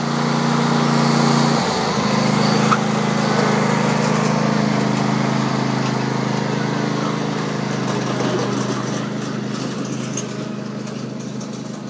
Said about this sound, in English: Stop the tractor.